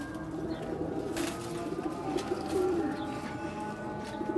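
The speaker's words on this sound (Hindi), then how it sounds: "ये देखें सब भाई उड़े उड़ाए कबूतर हैं।" Pigeons coo close by in a loft, soft repeated low cooing calls overlapping over steady background hiss, with no talk.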